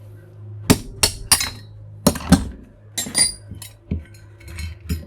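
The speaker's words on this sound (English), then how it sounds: "I'm just going to use this punch and drive the bushing down." Metal punch struck repeatedly with a hammer to drive a bronze bushing out of a blender, sharp close ringing clinks arriving in irregular pairs and singles.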